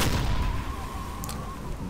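A submarine deck gun fires in Silent Hunter III as a heavy low boom that opens strongly and fades into a rumbling tail, with a faint sharp crack partway through.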